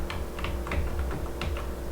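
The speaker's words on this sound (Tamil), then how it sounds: "நமக்கு வேணுன்ற டெக்ஸ்ட்டை இங்கே டைப் பண்ணிக்கிறதுக்காக" Quick, uneven keystrokes clatter on a computer keyboard while text is typed into a Google Docs drawing, close and fairly quiet, irregular taps over a low steady hum, no voices.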